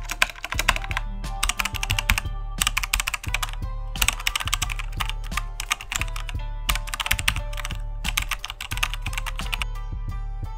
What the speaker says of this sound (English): Type this command.